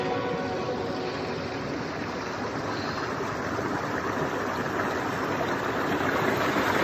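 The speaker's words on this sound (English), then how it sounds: "There's just little waterfalls everywhere. It's all fresh water just flowing in." Small freshwater waterfalls flow in at a beach camp in the Kimberley, making a steady, close, unbroken rushing of water that holds an even level throughout, with no voices.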